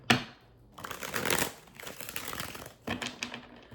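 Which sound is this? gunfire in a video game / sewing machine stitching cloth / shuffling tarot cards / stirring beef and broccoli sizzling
shuffling tarot cards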